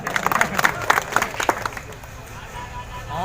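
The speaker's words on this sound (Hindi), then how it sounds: "तो भाई ताली बजी है" A crowd claps and cheers at a Congress party political rally in Amiliya, Sidhi. Dense bursts of applause fill the first moments, then thin out into a lower, lingering crowd murmur.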